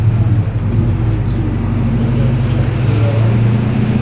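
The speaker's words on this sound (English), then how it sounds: "a crazy sounding Commodore on the other side. Sounding very lumpy" A modified Holden Commodore idles with a lumpy, loping rumble on a Sydney street in Liverpool. The low engine burble runs steadily throughout, fairly close, over traffic noise with no voices.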